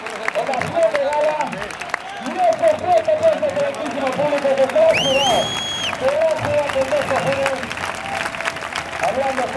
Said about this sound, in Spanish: ¡Ovación de gala!